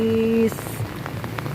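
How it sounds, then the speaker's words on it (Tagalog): Heavy afternoon rain pours steadily on an outdoor surface in Surigao City by the sea, a dense, even hiss throughout; a strong tonal hum fills the first third, and a voice speaks briefly. "So kasamtangan makusog ang ulan karoning kahaponon guys"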